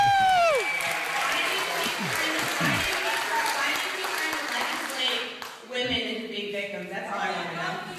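A divided town hall crowd reacts with applause, shouts and cheering, loud and mixed throughout, with voices and clapping blending into a continuous din.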